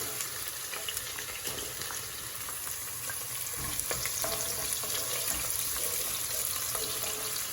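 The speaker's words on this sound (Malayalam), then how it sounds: "ഒന്നങ്ങ് വഴറ്റിയിട്ട് അതിലോട്ട് നമ്മൾക്ക് 4 ഗ്രീൻ ചില്ലി അരിഞ്ഞ് വെച്ചിട്ടുണ്ട്, അതുകൂടി ഇട്ട് കൊടുക്കാം." Chopped green chillies sautéing in a pan for Kerala-style chilli chicken, a steady close sizzle and crackle with occasional stirring scrapes throughout, no talking.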